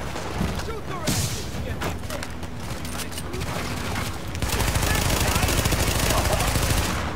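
Submachine gun fire in The Division, rapid bursts of automatic shots crackling over a busy battle, growing denser and louder in the second half, with voices speaking amid the shooting.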